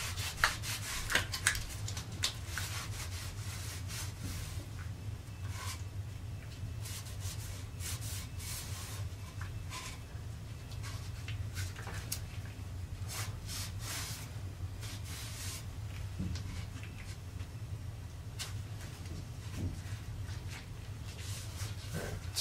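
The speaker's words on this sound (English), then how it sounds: "wipe off the excess glue" A cloth rag wiping excess wood glue off a wooden handstand trainer under construction, a steady soft rubbing and scuffing that runs continuously over a low background hum, with no talking.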